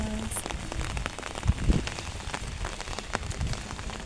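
Steady rain falling in Turkestan, Kazakhstan, heard as a dense even patter, apparently from inside a vehicle, with a couple of soft low thumps and no clear talk.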